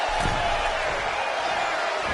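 Steady roar of a wrestling arena crowd during a televised WWE Raw match, a dense continuous wash of voices and cheering with a brief swell near the start, no clear speech.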